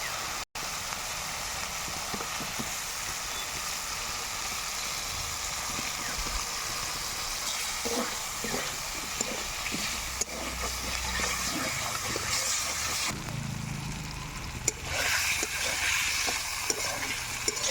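Mete aloo (yam) stir-fries with spice masala in a pan, a continuous low sizzle broken by irregular scraping and stirring sounds. The frying stays close and moderately quiet throughout.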